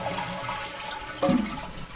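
A toilet with a newly replaced fill valve flushes, a steady watery rush that swells suddenly partway through as the tank begins to refill, heard up close and alone.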